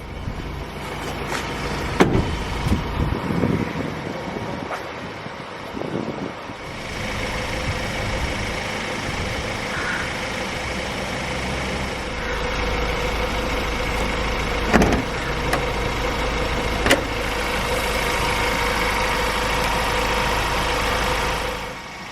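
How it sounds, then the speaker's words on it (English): A 2019 Ford Ranger Raptor's 2-liter bi-turbo diesel engine idles steadily with a continuous low rumble. A few short clunks and thumps come early on, and the hum then holds even and close throughout. "The Ranger Raptor has Ford's new 2-liter bi-turbocharged diesel engine"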